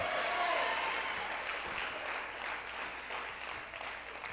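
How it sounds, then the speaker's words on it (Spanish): Church congregation applauds during a Spanish-language sermon, a soft, dense wash of clapping heard at some distance, steady throughout. "Vamos, aplauda al Señor, porque la gloria es para Él, el aplauso siempre es para Él"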